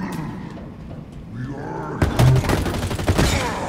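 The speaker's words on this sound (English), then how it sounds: "I want to use this mangler." Mangler gunfire in Halo Infinite gameplay: a burst of loud, close, rapid blasts erupts partway through, following a stretch of game sound effects and a voice speaking.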